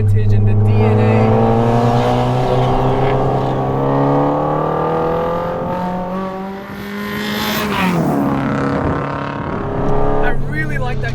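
A Honda Civic Type R FN2 with its K-series engine revs hard while driving, a loud sustained engine note climbing and falling in pitch, with a brief dip before pulling up again.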